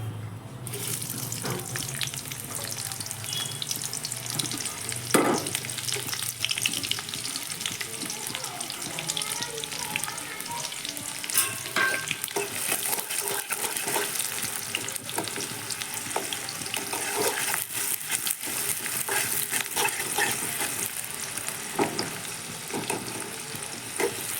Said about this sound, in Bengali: তেলটা ঢেলে দিয়েছি এবার পেঁয়াজ দেবো